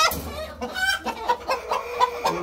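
A farm chicken clucks close by in a quick run of short, rhythmic calls, several in a row over a couple of seconds.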